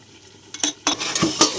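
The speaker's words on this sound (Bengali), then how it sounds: "ঢাকাটা খুলে দিচ্ছি।" A lid comes off a pot of chicken curry with a few sharp metallic clanks and scrapes, close and fairly loud, followed by brief sizzling.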